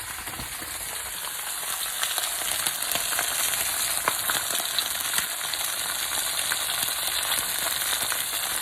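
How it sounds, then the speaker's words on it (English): A red snapper fillet fries in a pan, giving a loud, close, continuous crackling sizzle with dense hissing spatter and occasional pops throughout, no talking over it. "See how much it's sizzling?"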